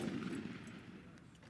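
A 40mm Mk 19 automatic grenade launcher fires from a firing line, a short, faint, distant thudding burst with no voices.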